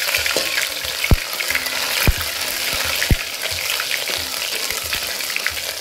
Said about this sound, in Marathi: तेल गरम झालेलं आहे आता आपलं. आता आपण लसूण टाकून घेऊ.